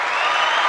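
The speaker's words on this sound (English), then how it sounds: "I gotta give this guy an applause right now" A short burst of applause from a sound-effect button, steady clapping from a crowd filling the whole moment at even volume.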